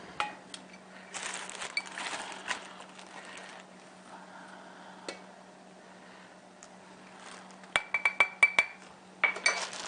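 Metal measuring cups clinking together in a home kitchen while baking a cake: sparse, faint metallic taps over a low steady hum, then a quick cluster of brighter clinks near the end.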